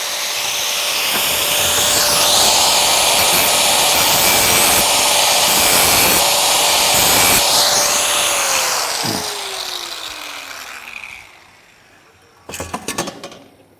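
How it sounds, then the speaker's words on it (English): A lawn mower blade being sharpened gives a loud, steady high whirring grind that holds for several seconds, then winds down in pitch and stops, followed by a short burst of metallic clatter. "And that's my blade sharpened, okay?"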